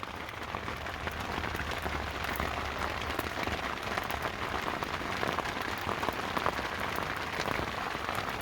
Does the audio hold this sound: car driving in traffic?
no